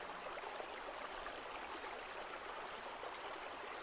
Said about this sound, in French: cette rivière. Elle coule entourée d'une végétation dense.